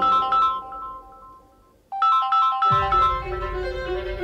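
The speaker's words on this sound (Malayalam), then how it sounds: "ഗോകുലോ നീ ഫോൺ എടുക്ക. ആ ഗംഗയുടെ എന്തെങ്കിലും കാര്യം പറയാൻ അവൻ വിളിക്കുന്നേ." A phone's incoming-call ringtone plays loud and close as a bright melodic tune, pausing briefly before repeating, with no speech over it.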